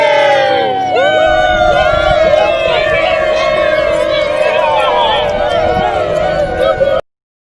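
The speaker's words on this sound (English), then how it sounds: "the award for longest sustained applause goes to those guys" A large audience at a blacksmith awards ceremony cheers and whoops loudly and continuously, with shouts rising over a steady roar for several seconds before cutting off abruptly.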